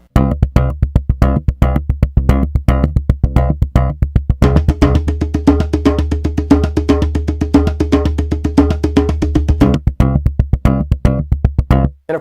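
A SlapStick N-100 electric percussion instrument plays a fast, sped-up pattern of dense repeated hits over a steady low tone, loud and close with no talking.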